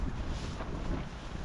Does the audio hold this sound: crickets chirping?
no